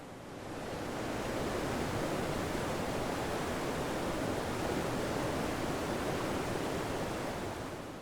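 A waterfall swollen with snowmelt roars as a constant, dense rush of water, loud and unbroken throughout, with no voices.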